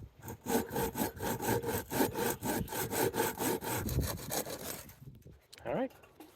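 Hand saw cutting through scrap wood for a birdhouse, a steady rhythm of about a dozen close, rasping back-and-forth strokes that ends in a few scrapes and a brief clatter.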